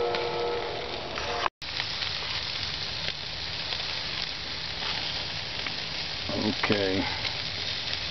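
Barbecue meat sizzling on a grill outdoors after a snowstorm, a steady crackling fry throughout, with a short break, a few clinks, and one brief spoken word.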